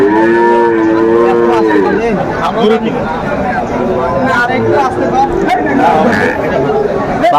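Several Sahiwal cattle moo loudly and repeatedly, close by, at a cattle market in Comilla, Bangladesh, over a constant crowd babble and chatter in the background.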